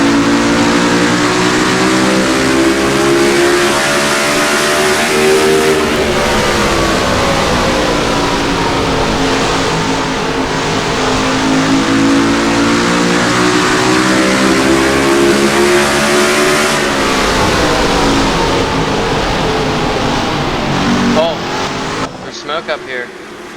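Race car 37 roars in an onboard view from a racing game at Richmond, its engine holding a loud steady drone that rises and falls through shifts and throttle changes, with faint talk underneath.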